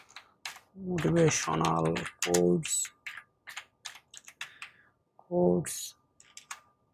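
Computer keyboard typing in short clicky bursts, close and fairly clear, between stretches of a person talking.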